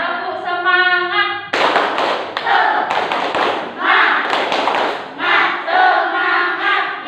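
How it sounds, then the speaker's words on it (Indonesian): A school class does the tepuk semangat routine, giving loud rhythmic group claps and slaps in bursts, mixed with children chanting together. "Tepuk semangat."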